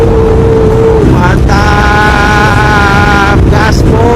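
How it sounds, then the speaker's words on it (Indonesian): Old motorcycle riding along a Malaysian toll road, a loud close engine drone with shifting whine tones buffeted by heavy wind noise. "seperti inilah rasanya naik motor di jalan tol Malaysia."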